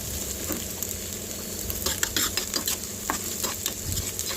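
Ginger-garlic paste and bitter gourd frying in oil for a spiced stir-fry, a constant sizzle with rapid metallic stirring scrapes that come in bursts, close and moderately loud, no voices.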